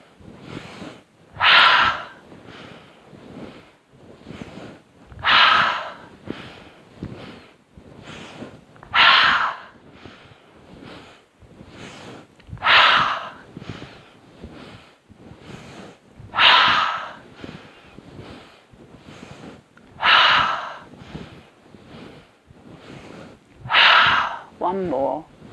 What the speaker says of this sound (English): Inhale, inhale more, inhale even more.